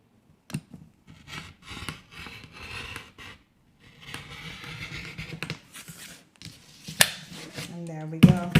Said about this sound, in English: And we're going to cut it in half in the other direction.